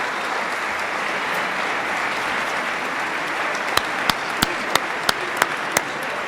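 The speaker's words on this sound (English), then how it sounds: "Please give them a round of applause." An audience at the 2007 IHSA Speech Individual Events State Finals applauds a speech team with steady, dense clapping, and a run of sharp, evenly spaced clicks cuts through near the end.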